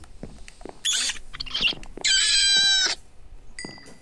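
Game cat from Minecraft meowing twice, a short mew followed by a longer drawn-out meow with a clear tone, then a fainter trailing mew, against quiet background game sounds with no talking.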